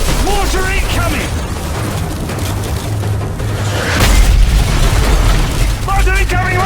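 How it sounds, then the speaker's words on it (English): Mortar explosions boom in the Call of Duty Modern Warfare video game, with heavy low thuds and bursts amid loud battlefield chaos while soldiers shout urgently over the din. "Mortar incoming, man! Run! Move!"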